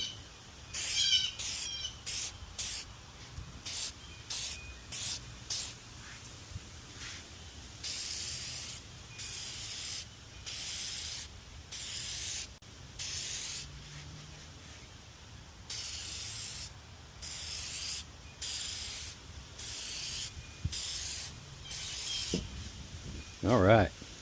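Repeated bursts of aerosol spray as a second coat is applied to car headlights during a restoration, short hissing blasts in uneven rhythm with pauses between, close to the microphone and otherwise quiet.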